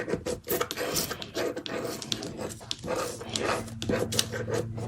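Scraping a cut cardstock project off a Cricut Joy Xtra cutting mat, a quiet rasping scrape repeated in short strokes, close up.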